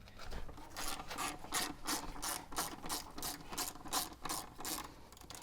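Ratchet with a 17mm socket breaking loose the brake caliper pins on an 80 Series rear brake, a steady run of sharp rhythmic clicks, close and fairly loud, with no talking.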